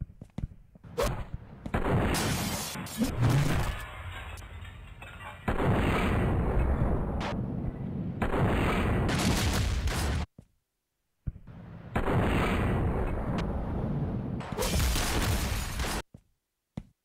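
Explosions and heavy gunfire in the video game Delay, loud booming blasts and bursts of shots in long dense stretches, broken by brief silent gaps.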